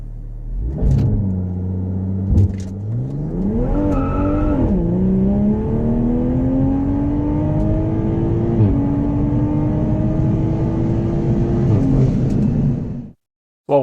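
A Toyota A90 Supra fitted with a JB4 tuner launching hard on a timed run: loud engine roar climbing through the revs with several distinct gear shifts, a sustained pull that cuts off abruptly at the end.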